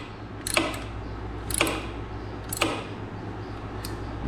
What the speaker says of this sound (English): Use our sweet little crescent wrench here. Make sure we get a good bite on it.